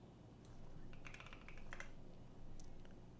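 Fingers tap a computer keyboard in quick, scattered clicks, soft and close, over a quiet room with no talking.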